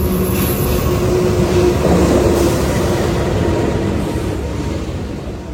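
An extra Argo Lawu service from Solo Balapan, bound for Gambir, rolls into platform 4 of a station with a steady, loud rumble of wheels and carriages and no voices.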